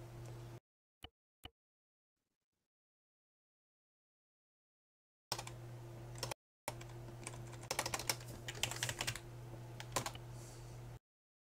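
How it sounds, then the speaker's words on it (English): Bursts of rapid computer keyboard typing, close and fairly quiet, with a short pair of clicks first, then several seconds of continuous clattering keystrokes over a steady low hum. "You can still hear my typing"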